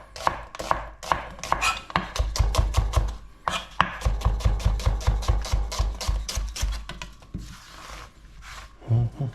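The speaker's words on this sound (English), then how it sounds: "I'm going to slice the onions and everything else" A knife slicing onions on a cutting board for chicken bhaji, a fast run of sharp close chopping thuds in quick regular bursts, loud and near, with a brief pause partway and no talk.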